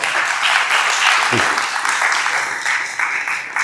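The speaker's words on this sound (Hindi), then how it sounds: "बजाओ ताली, कोई बात नहीं, ठोको ताली।" An audience at a talk session claps together in a steady burst of applause that carries on loudly for several seconds, and a voice is briefly heard within it.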